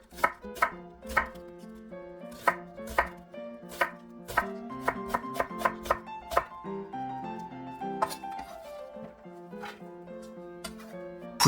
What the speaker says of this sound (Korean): 양파 반 개는 채 썰어주세요.